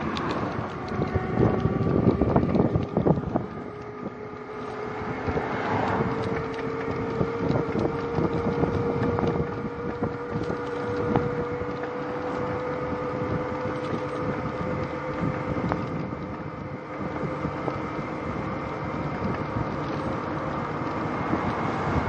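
A Mach-1 1000-watt 36V electric scooter is ridden along a road, its motor giving a steady tonal whine over heavy wind rush and road rumble, with no talking.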